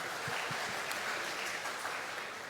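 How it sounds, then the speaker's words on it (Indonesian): Soft applause from a Parents' Day audience of families, a quiet wash of clapping with a few distinct claps standing out, heard at a distance and without speech. "Tepuk tangan buat setiap kita."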